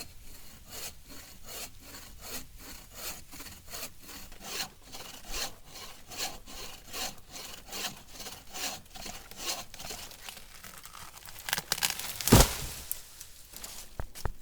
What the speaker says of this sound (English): I just use my right arm as a guide to keep the saw straight so I'm not straining my injury